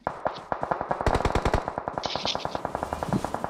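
Rapid automatic gunfire from the mobile game PUBG Mobile rattles off in a long, evenly spaced burst of sharp cracks, close and loud, with a brief pause early on before the firing continues.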